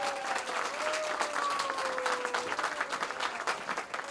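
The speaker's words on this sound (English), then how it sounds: "Please give him a warm round of applause." A large museum audience gives warm applause to welcome the evening's host, a full, sustained wash of clapping from many hands that holds steady throughout, faint in level, with a thin trace of a voice above it.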